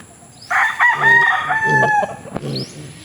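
A White Kelso rooster gives one loud, close cock-a-doodle-doo crow with a drawn-out, wavering middle and a trailing end, alone in a backyard.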